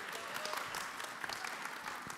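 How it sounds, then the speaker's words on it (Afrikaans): Church congregation applauding during a Sunday morning service, a quiet, steady patter of many hands clapping at a distance, with faint crowd murmur underneath. "So kom ons gee vir haar 'n lekker hande klap."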